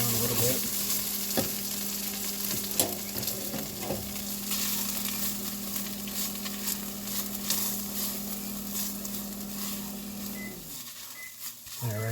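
Steady sizzling in a pot as something melts for turkey barley soup, with a metal spoon scraping and clinking now and then, close and continuous, a faint hum underneath.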